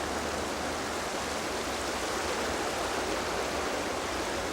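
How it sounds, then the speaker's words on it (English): Water swirls and churns in a deep river weir pool, a steady, dense rushing wash with no break for several seconds and no voices. "here we've got about 20 foot of water swirling around"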